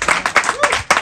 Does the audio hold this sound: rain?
no